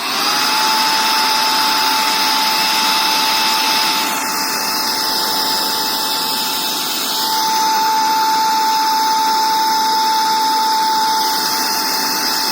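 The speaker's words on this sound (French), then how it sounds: "Là je vais démarrer l'aspirateur et vous allez voir" Cordless 18000Pa vacuum cleaner runs on its first speed with a loud, steady high-pitched motor whine, its pitch dipping briefly midway before settling back.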